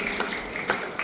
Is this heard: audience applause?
yes